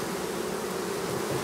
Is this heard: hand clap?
no